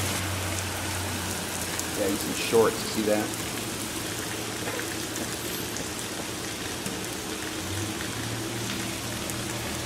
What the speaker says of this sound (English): Look at the rain coming off the front of the house right there and hitting the trash can.